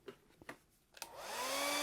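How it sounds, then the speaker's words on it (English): A hair blow dryer switches on after a few soft knocks and runs steadily, loud and close, with a rising whine as it dries primer on EVA foam. "let me hit that with a blow dryer"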